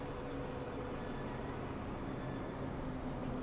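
Racing trains in the Transport Fever video game, a continuous, even rumble of rolling rail traffic with faint high whines laid over the steady drone.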